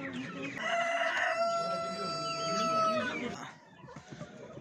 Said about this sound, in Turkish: Pazarda iki tane de yan yana köy horozumuz var.